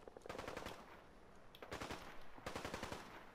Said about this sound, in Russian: Там, смотрите, с применением автоматического оружия боевые действия идут